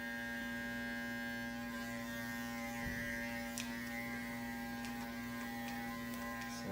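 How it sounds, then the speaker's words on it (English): An electric hair clipper running with a steady, close, tonal buzz and hum that holds throughout while cutting hair, with faint soft snips and rustles over it. "As the hair falls out, just let it fall against the clipper."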